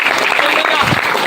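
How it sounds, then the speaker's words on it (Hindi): A congregation at a Christian worship service claps in praise of the Lord, with dense, sustained applause filling the whole moment. "ताली बजाकर प्रभु का।"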